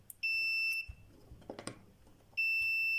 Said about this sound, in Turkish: Bunu buzzer konumuna alalım.